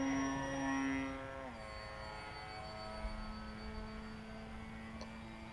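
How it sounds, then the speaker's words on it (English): A Durafly Tundra model airplane passes overhead, its small electric motor giving a steady whine that drops in pitch as it flies by, then holds a fainter, level drone alone without talk. "Man, this plane is great."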